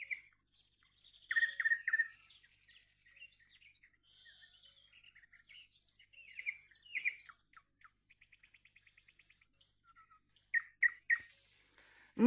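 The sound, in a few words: nightingale singing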